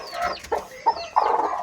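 A brooding hen settled on eggs at a home in Tamil Nadu gives a few short, close clucks in quick, uneven bursts, loud and alone.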